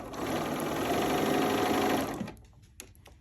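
A sewing machine stitches quilt pieces in a steady, fast, close whirring run for about two seconds, then stops, leaving only a few small clicks.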